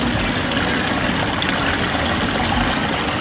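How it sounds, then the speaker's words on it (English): Spring water from underground sources pours steadily into a street fountain in Córdoba, Spain, a close, even, unbroken rush and splash of flowing water. "this water all comes from underground springs."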